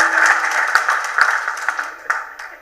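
An audience bursts into applause at a Tamil movie audio launch, dense clapping that starts strong and slowly thins out over a few seconds.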